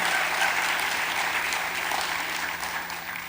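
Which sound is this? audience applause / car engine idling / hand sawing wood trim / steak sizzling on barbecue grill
audience applause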